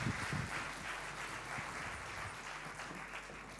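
Audience applause at a TEDx talk in Antananarivo, a fairly soft, steady wash of many hands clapping that fades slightly toward the end.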